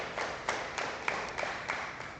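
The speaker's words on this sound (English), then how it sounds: "I think that deserves a bit of a round of applause." Applause from a small audience at an Everest Wealth media briefing, with scattered, fairly sparse claps spaced out over a couple of seconds.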